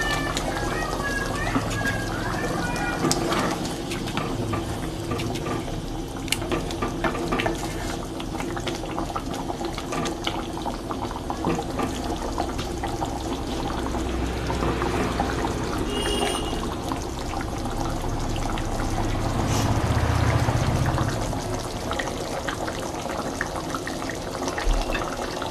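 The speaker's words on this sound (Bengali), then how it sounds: "আর একটু জল দিচ্ছি।" Water poured into a pan of mustard chicken curry cooking on the stove, a steady low pour and sizzling bubble that runs continuously and swells near the end, with faint background noise and no clear talk.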